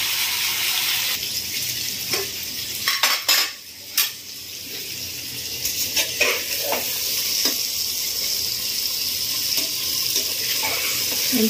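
Salted, turmeric-coated fish pieces frying in hot oil, a steady loud sizzle throughout with a few clattering knocks of a utensil against the pan.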